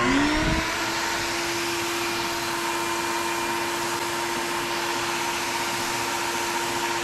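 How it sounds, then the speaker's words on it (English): A vacuum for a home-made vacuum former switches on after a brief thump, then runs as a loud, steady whining drone with an even tone that continues unbroken to the end. "I'm going to turn this vac on"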